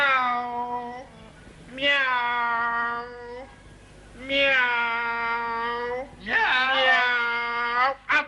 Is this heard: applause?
no